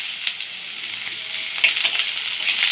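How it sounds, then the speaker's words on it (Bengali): Sliced onions and a bay leaf fry in hot oil in a pan for a chicken curry, a close, steady bright sizzle with crackling pops throughout. "এবার তেল গরম হয়ে গেছে, আমি তেজপাতা দিলাম, পেঁয়াজ দিলাম।"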